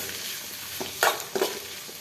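Tomato pieces drop into a pan of frying onions while making a bitter gourd curry, giving a few soft stirring and sizzling bursts over a quiet steady fry with no talking.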